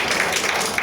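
Audience applause at an indoor training event, a dense, steady wash of clapping from many hands, close and loud throughout the short burst.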